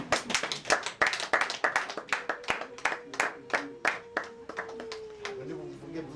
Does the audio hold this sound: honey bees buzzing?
no